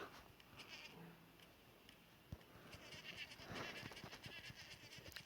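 Sheep bleat repeatedly amid a busy, clattering game-like soundscape, fairly faint overall with no talking.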